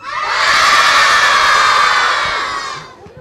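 A group of children shout together at a school awareness session, one loud sustained collective yell of about three seconds that swells quickly and fades out at the end, with no talking over it.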